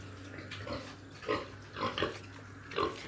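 A pig on a farm gives several short grunts, spaced irregularly over a steady low background hum, close to the microphone.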